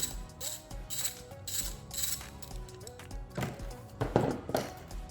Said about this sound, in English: So let's go ahead and remove the spark plug.